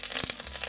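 Curry leaves hitting hot oil for masala dosa, a brief burst of bright crackling sizzle and spitting, close and loud, lasting under a second.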